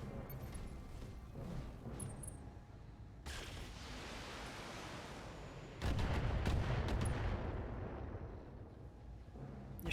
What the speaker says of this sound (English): You're shooting my Marauder.